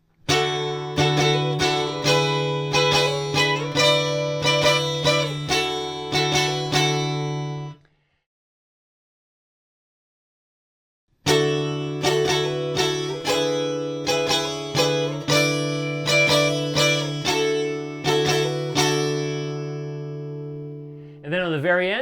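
Guitar playing a chord figure, bright strummed chords with a brief hammer-on, close and loud, broken by a few seconds of silence before the figure repeats.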